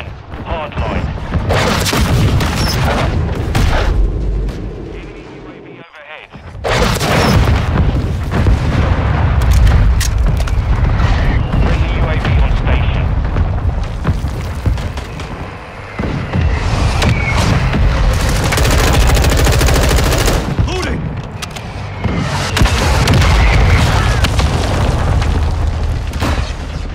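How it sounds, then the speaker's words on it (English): Mortar strikes and gunfire rumble through a Call of Duty Modern Warfare 2 invasion match, with repeated heavy booms and crackling bursts dense across most of the stretch, one sharp drop to near silence, and voices heard over the battle. "Hostile mortar strike near your position."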